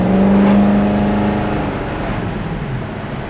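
A 1967 Ford Mustang, its V8 compared against 289 and 302 engines, runs steadily while driving, a loud close engine drone that swells slightly early on and then settles into an even hum with no talking.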